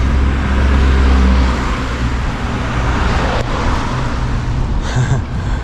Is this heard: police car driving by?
yes